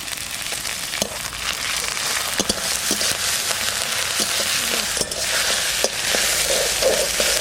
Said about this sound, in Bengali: এইবার দেবো বাটা পেঁয়াজ।